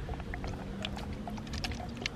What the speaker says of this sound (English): Do you want me to pour the activator in?